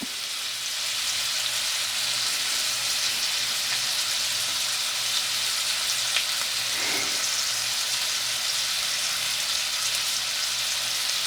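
Turkey fillets brown in a frying pan with a loud, steady, close sizzle that holds evenly throughout, and no voices.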